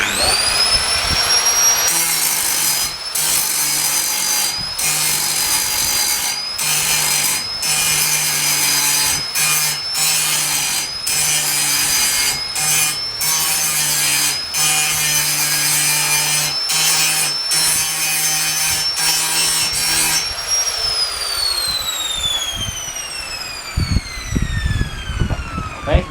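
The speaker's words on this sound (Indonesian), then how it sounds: "Ini langsung digerinda teman-teman, nanti dibalik ya." An angle grinder works across a welded sawmill saw blade, loud and close, with a steady high whine broken by repeated short cuts. The motor winds down near the end, leaving clattering metal.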